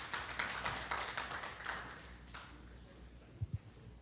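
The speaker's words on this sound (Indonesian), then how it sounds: "Kita kasih aplaus dong, tepuk tangan yang meriah." A church congregation applauding at a worship service, a patter of quiet clapping hands that thins and fades out after a couple of seconds, followed by two soft thumps.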